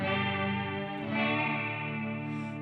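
Guitar strumming a couple of open chords through a dual chorus pedal, with a thick, rubbery wobble running through a steady sustained wash, loud and close with no voice.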